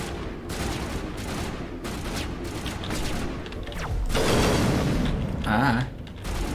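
Sniper gunfire from the video game Mass Effect: a dense, continuous clatter of shots and booms that swells louder around the middle, with a sharp warbling electronic tone near the end.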